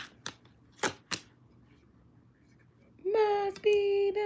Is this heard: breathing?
no